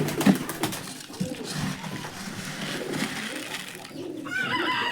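Pigeons on a pigeon farm coo softly in low, repeated rolling calls, with rustling movement nearby and a burst of higher bird chatter toward the end.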